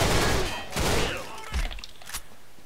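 Basic starter pistol firing in the game Line of Sight: three or four loud, punchy shots spaced about half a second apart, each with a short ringing tail.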